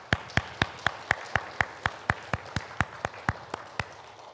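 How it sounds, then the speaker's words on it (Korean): Slow, evenly spaced single hand claps, around sixteen sharp strikes over a few seconds, from a church congregation welcoming visiting members during a Sunday service; no voices over them. "박수로 환영하도록 하겠습니다"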